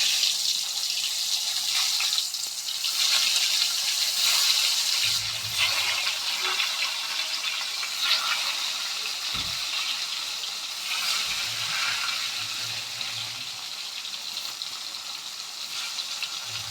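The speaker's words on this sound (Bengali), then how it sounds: "এই তেলের মধ্যে আমরা বাকি পটলগুলো ঠিক" Pointed gourd (potol) frying in oil, a loud continuous hiss and sizzle held throughout, with a few low clunks of utensils or the pan along the way.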